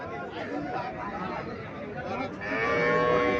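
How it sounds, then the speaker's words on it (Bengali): A dairy cow lows at a cattle market in Cumilla, and a deeper drawn-out moo rises near the end over steady crowd chatter and nearby voices. "এখানে একটা গাভী দেখা যাচ্ছে"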